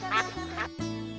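Ducks quack in a short burst of two or three nasal calls at a backyard duck-rearing setup, close and fairly loud.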